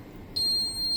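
An apartment fire alarm, reportedly disconnected, gives off a sudden high, piercing electronic tone that starts partway through and holds steadily over a quiet background hum.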